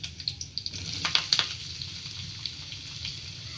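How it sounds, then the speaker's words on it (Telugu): Sliced onions frying in a pan of oil with cumin seeds and curry leaves for a bottle gourd masala curry, a soft steady sizzle with a few brief crackles and pops near the start. "ఆనియన్స్ని ఈ విధంగా వేపుకోవాలి"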